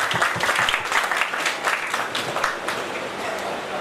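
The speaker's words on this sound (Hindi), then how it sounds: "आप सबके लिए मैं सर झुकाकर तालियां बजाता हूँ।" Sustained applause from an audience at a teacher's retirement party in Sirsa, a dense wash of clapping filling the room, with voices faintly mixed in.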